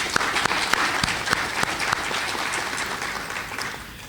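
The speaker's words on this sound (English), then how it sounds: "So please join me in applauding these community leaders who volunteer their time on behalf of our college." An audience at a college awards ceremony applauds community leaders with steady, dense clapping that holds for about four seconds, fairly close and at an even level.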